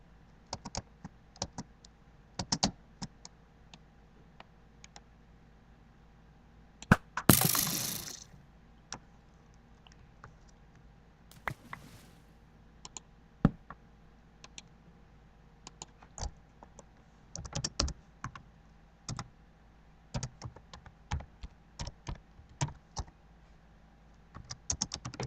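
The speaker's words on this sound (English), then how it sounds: "this keyboard is slower than I am" Computer keyboard typing in irregular bursts of clicky keystrokes spread across the stretch, with a brief louder clatter partway through, close and moderately loud, no speech.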